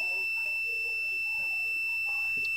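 Multimeter continuity beep while testing the starter wires of a portable brushed generator, a steady high-pitched electronic tone sounding continuously and close, with faint background noise underneath.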